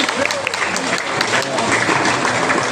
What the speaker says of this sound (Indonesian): Tepuk tangan untuk kepala desa Cimayasari.